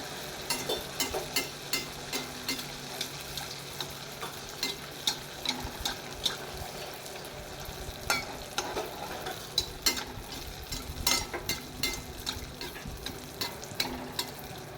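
Malpua batter frying in hot oil in a home kitchen, a steady faint crackle and sizzle with occasional soft scraping and clicks, no voices.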